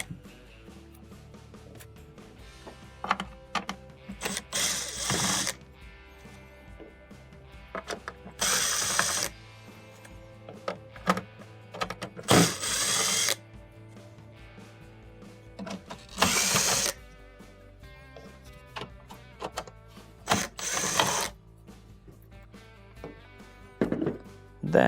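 Phillips screws being driven out of the user interface panel of a washing machine with a power drill, short whirring bursts recurring through the clip amid clicks and handling noises, fairly close, with no talking.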